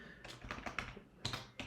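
Keys tapped on a computer keyboard while entering a CDK init command for an AWS project, a quick irregular run of close, crisp clicks heard alone.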